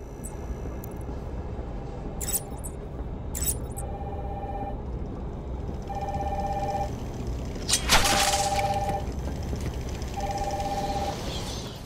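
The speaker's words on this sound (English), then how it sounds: "Ringing phone." A phone rings in Batman: Arkham Asylum, in repeated short electronic trills, about five rings spaced a couple of seconds apart, over a low steady background hum.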